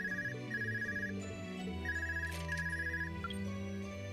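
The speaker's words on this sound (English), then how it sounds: "Phone call." Phone ringing in the video game Trails of Cold Steel 2, repeated electronic ring bursts over steady game music, fairly quiet and without talk.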